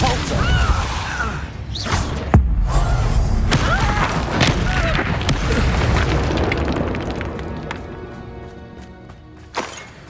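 In Hogwarts Legacy, Depulso spells burst out as booming, whooshing blasts with thuds and crashes, loud and dense throughout, mixed with combat effects and layered game sound.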